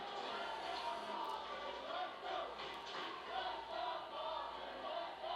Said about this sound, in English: You can hear the Simon Kenton crowd.